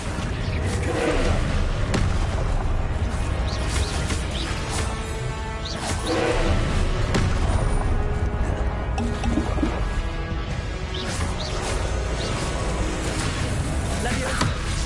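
Confringo explosive spells blasting in Hogwarts Legacy: dense, rumbling impacts and crackling debris fill the scene without a break, layered with game effects and a player speaking throughout.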